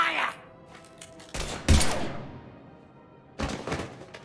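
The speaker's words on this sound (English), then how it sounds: "Now open fire!" Gunfire in the video game Mass Effect 3: a few sharp, loud broadband bursts, one near the start and a cluster in the middle, with another blast near the end, each decaying over ambient game noise.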